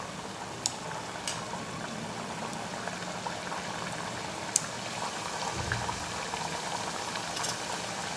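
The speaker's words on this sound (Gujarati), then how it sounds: "હું તળીને તૈયાર કરી લઈશ।" Farsi puri deep-frying in hot oil gives a continuous, close bubbling sizzle with a few sharp pops and crackles scattered through, steady in level and free of talk.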